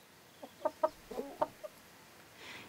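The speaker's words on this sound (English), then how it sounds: "he becomes very attached to a Houdin hen" A Houdan hen clucks close by in a quiet outdoor setting, a short burst of about six soft, irregular clucks over a couple of seconds.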